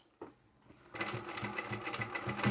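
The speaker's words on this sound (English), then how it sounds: "And sew all the way to the end." A sewing machine stitches a chapstick holder, running steadily with a fast, even whir from about one second on after a quiet start with faint handling sounds.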